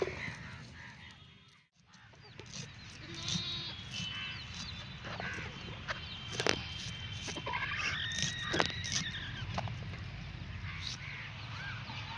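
A flock of sheep arriving, with bleats heard among a busy outdoor mix of calls and rustling, moderately loud and steady across the scene with a few sharper cries standing out.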